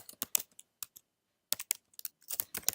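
Fast, irregular clicking of computer keyboard keys while typing JavaScript code, coming in two close bursts with a pause between them, fairly quiet and heard without talk.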